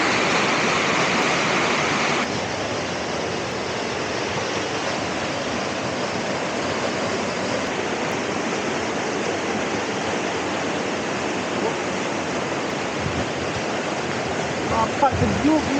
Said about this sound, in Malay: So inilah anak sungai dia.